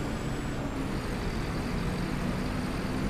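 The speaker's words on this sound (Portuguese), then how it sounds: "Ele toca turbina quando você acelera" Bus engine in Proton Bus Simulator revving under acceleration, a steady dense drone with a thin high turbo whistle that fades after the first moment, traffic rumbling close throughout.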